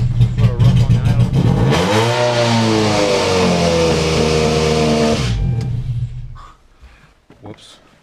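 Toyota Celica ST202 SS-III, 98-99 spec, engine running rough just after starting, loud uneven revving that rises and falls before cutting off abruptly.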